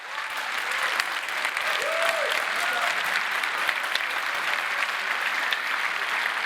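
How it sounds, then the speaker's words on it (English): Warm applause for the Delft Hyperloop student team at their Helios design reveal, a steady, even round of clapping from an audience lasting throughout, with a brief whistle or cheer. "Can I please get a warm round of applause for the team that made Helios 1 happen?"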